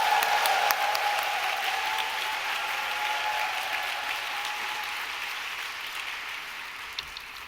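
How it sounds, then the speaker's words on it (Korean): Sustained audience applause with cheering in a church worship gathering welcoming a visiting pastor, a steady wash of many hands that slowly fades over several seconds. "큰 소리로 함성과 박수로 환영하도록 하겠습니다"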